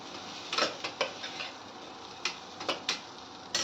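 Drumstick and potato curry stirred in a pan, heard as light scattered clicks and scrapes of a spoon against metal, several sharp ticks spaced irregularly over a quiet background.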